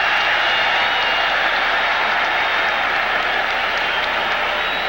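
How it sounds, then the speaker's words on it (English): A loud, dense roar from a 1980 NFL stadium crowd at an Oilers–Bengals game, reacting to a referee's penalty signal with a sustained wall of cheering and applause and no clear gaps. "Crowd reacting to the preliminary signal by the referee, Ben Greif."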